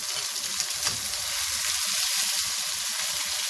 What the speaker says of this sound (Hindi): अब इसमें मैं तीन अदद बड़े वाले टमाटर काट के ये डाल रही हूँ